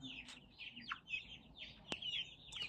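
Hybrid chickens in a poultry pen cluck and squawk in a series of short, fairly faint calls, with one sharp higher squawk standing out near the end, and no talking.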